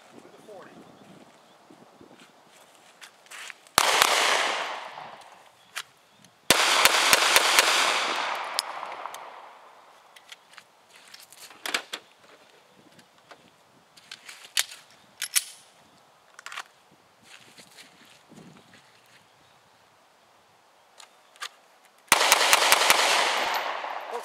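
.40 S&W pistol shots ring out loud and close in a few sharp reports, with quieter clicks, handling noise and talk between them.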